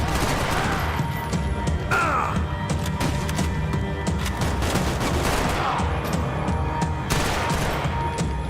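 Heavy gunfire in the PC shooter Max Payne 3: a continuous, dense barrage of rapid automatic shots and impacts, loud and close, with a brief voice surfacing in the middle.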